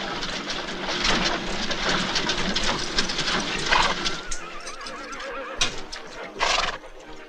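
A horse being broken to the saddle gives loud, shrill neighs and whinnies amid a rough, noisy struggle, with a sharp cry near the end.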